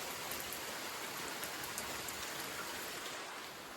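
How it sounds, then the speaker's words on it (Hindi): Heavy monsoon rain pours down in a dense, constant hiss of drops striking surfaces, loud and unbroken throughout with no voices. "अचानक से आ गई बारिश"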